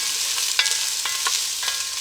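Mixed vegetables sizzle loudly in a hot pan, with several scraping stirs breaking through the steady crackle.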